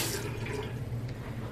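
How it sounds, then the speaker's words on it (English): Water running from a repaired Moen faucet after a cartridge replacement, a steady close-up splashing stream at an even level, with no voices. "Hot water, cold water, and no more drips."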